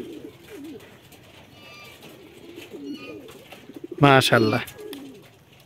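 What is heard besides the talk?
pigeons cooing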